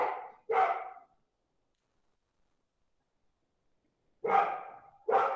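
Two pairs of dog barks separated by several seconds of silence, muffled and moderately distant, as if coming from outside.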